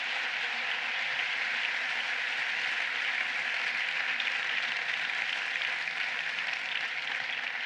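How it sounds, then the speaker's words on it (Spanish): An audience applauds at a political speech presenting a deregulation program, with steady, dense clapping that holds evenly at moderate volume for the full stretch and no voices over it. "por favor dadles un aplauso a todos"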